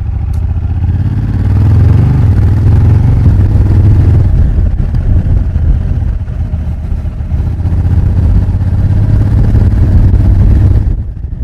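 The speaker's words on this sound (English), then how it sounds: "this unique, aggressive and exciting sound that comes from its newly designed exhaust pipes" Honda Africa Twin motorcycle with newly designed exhaust pipes, picked up close from the rear seat: a loud, steady engine drone that swells twice with revs before cutting off abruptly near the end.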